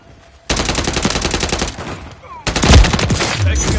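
Video game gunfire: rapid automatic bursts burst in loudly after a quiet start, pause briefly, then resume with heavier booming shots and impacts close by.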